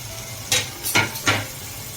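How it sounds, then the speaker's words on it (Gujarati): Chunks of pumpkin are stirred in hot oil seasoned with mustard seeds in a pan over low to medium flame, giving three or four quick scraping, sizzling strokes close by. "પછી એક વખત આ રીતે હલાવી કાઢવાનું."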